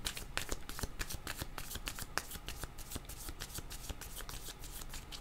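Tarot cards being shuffled close by, a steady run of soft riffling flicks and papery slaps going on without a break and with no voices.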